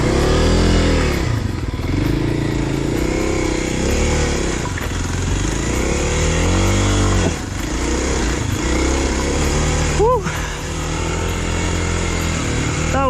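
Kawasaki KLX dual sport motorcycle riding tight, rocky single track through bushes and trees, its engine revving up and down continuously at close range with repeated throttle surges.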